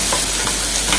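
Vegetables and potatoes for an Avadhi-style vegetable pasta sizzle loudly in a hot pan, a constant close frying hiss broken by brief scraping strokes as they are stirred.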